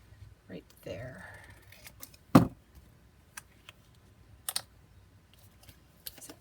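Scissors cut paper for a Valentine junk journal pocket, with a few sharp isolated snips, one loud crisp cut standing out, amid quiet room sounds and soft talk.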